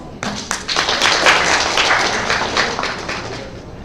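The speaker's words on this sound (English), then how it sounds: "Ladies and gentlemen, please give them a round of applause." A round of applause from the audience closing a health talk event, starting with a few separate claps that quickly build into dense, close clapping and hold steadily for several seconds.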